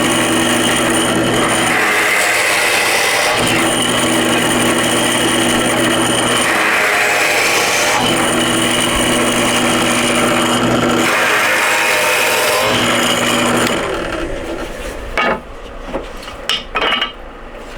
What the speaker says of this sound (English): And you do our other drill press, which is set up for our vertical drills.